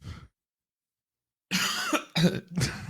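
A brief sound at the start, then a pause, followed by a burst of harsh, throaty coughing in three rough hacks, close and loud.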